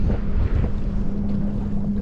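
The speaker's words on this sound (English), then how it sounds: "Now the wind's picking up." Wind buffeting the microphone and rough, choppy water slapping around a Pelican Catch PWR 100 fishing kayak, a constant low rumbling roar with gusty swells over two seconds, close and loud with no voices.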